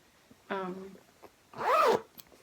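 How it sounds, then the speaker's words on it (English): A front zipper pocket on a bag is unzipped in two separate pulls, each a short rasping buzz, close and clear against a quiet background. "It has a front zipper pocket, as you can see here."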